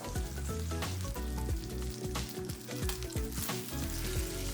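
Seasoned pork chops browning in a hot frying pan give off a loud, steady sizzle that carries on without a break, close up and alone.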